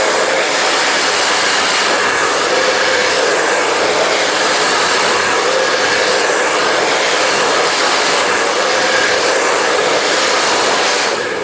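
Hair dryer blowing steadily while hair is blow-dried with a round brush for a razor-cut style, a loud, constant close-up whoosh with no pauses or talk.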